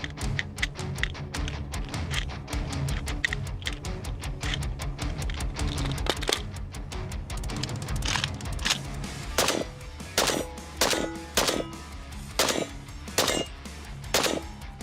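An internet-famous cursed gun fires rapidly in bursts outdoors in winter, a dense stream of loud cracking shots that thins into separate, evenly spaced shots toward the end.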